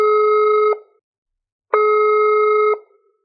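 Two long, loud electronic phone tones separated by a second of silence, the steady repeating signal of a call that fails to connect.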